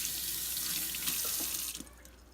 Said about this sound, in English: pop this guy out, give it a rinse.